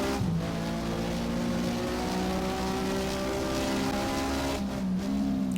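A Porsche Mobil 1 SuperCup race car engine on a qualifying lap at Hockenheim in the Race07 video game, holding a loud sustained high-rev drone with a gear change near the end.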